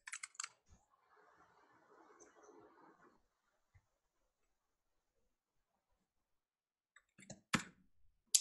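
Typing on a computer keyboard while installing a software package: a quick burst of key clicks, a few seconds of quiet, then a few sharp, close taps, with no talking.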